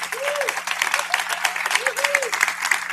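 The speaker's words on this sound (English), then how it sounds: "we applaud them." Sunday service congregation applauding ministers and practitioners, a continuous, fairly even clapping from many people, with a steady low hum and swooping tones running underneath.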